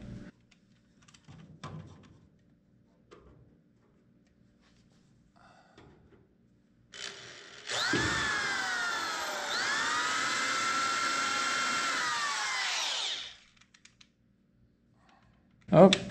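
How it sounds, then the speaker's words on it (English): A hand drill boring holes in metal for a homemade brake pedal assembly on a Model A coupe hot rod, a single sustained high whirring run of about five seconds between quiet shop clicks and brief talk. "going to drill some holes here and here"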